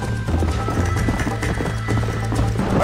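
Horse galloping in the Red Dead Redemption video game, with a steady, loud clip-clop of hooves running continuously throughout and an occasional snort or whinny over a constant background.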